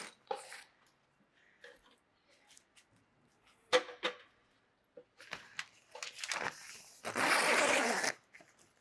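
Zip being run along a Stockman Rover awning wall on a camper, a few short scratchy pulls and rustles building to one long, loud, close zipping stroke near the end.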